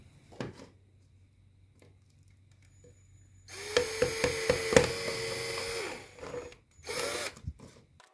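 A drill bores holes in the bottoms of small plastic yogurt pots, with a few quiet knocks at first, then a loud whirring burst of about two and a half seconds, and a brief final whir.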